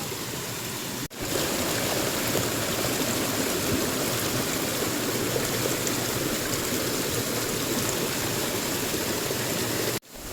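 A mountain stream on Brahmagiri hill rushes in a steady, dense wash of flowing water, close and constant for the whole stretch with no talking, broken only by brief dropouts near the start and end.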